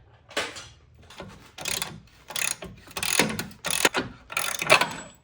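A socket wrench ratchet works a castle nut loose on an old Ford Mustang, giving several bursts of rapid clicking separated by short pauses, close and fairly loud with no talking.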